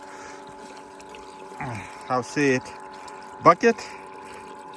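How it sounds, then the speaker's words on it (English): A battery-powered water pump with a speed regulator runs in a gold separation setup, making a steady low hum throughout while someone speaks in short bursts over it. "water pump underneath, pumping water here spinning"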